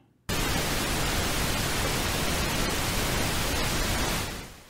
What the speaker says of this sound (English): Here's a pink noise.